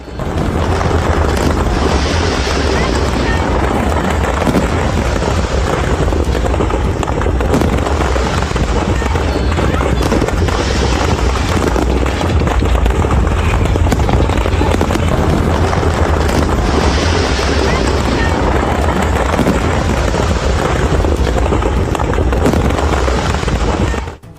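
Dense, continuous crackling of firecrackers bursting for the whole stretch at a political party celebration in Kolkata, loud and unbroken, like a long string going off with booms mixed in.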